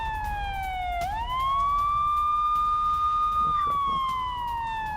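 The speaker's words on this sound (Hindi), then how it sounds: "लगातार एयर रेड सायरन बज रहे हैं।" Air raid siren sounding over Tel Aviv, Israel: a loud sustained wailing tone that dips, then rises and holds steady before slowly falling, carried over a low hum of the city.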